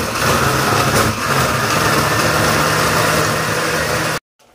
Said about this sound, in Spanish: A continuación la licuamos.